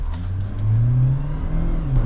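A GWM Cannon Alpha accelerating hard from a standstill in sports mode with the throttle floored, a steady, loud engine drone rising in pitch with no talk over it.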